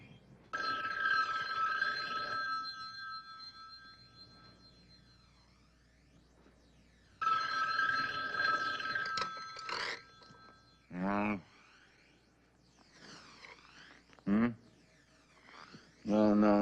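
A telephone bell rings in two long bursts several seconds apart in a crime drama scene, moderately loud, followed by clattering handling noises and short fragments of voices.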